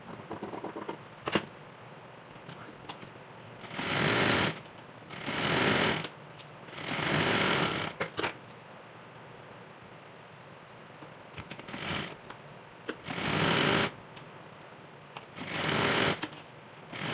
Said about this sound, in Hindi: अब हम गले की भी सिलाई कर लेते हैं।